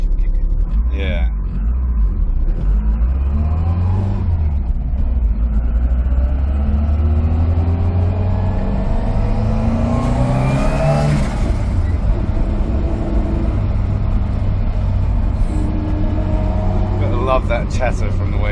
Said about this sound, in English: Love that chatter from the wastegate.